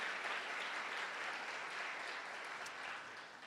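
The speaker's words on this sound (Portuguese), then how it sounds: "Pode aplaudir o Senhor." A church congregation applauds during a family worship service, steady broadband clapping holding evenly throughout and easing slightly near the end, with no talk over it.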